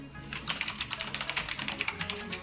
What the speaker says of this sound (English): I actually have a silent key, mechanical keyboard. It's supposed to be silent